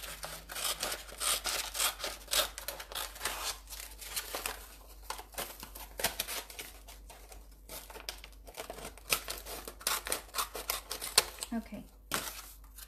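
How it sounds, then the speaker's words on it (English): Quiet, close snipping of scissors through paper, with irregular cuts, crinkling and rustling as the sheet is handled. "just cutting them out like you normally would with scissors"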